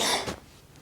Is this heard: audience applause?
no